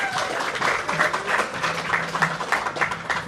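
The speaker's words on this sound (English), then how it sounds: "Round of applause" Audience applause at an evening app launch and art exhibition, a steady wash of clapping from a crowd filling the room, with a few voices murmuring beneath it.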